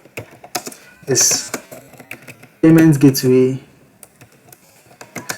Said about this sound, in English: So let me type that so that you see it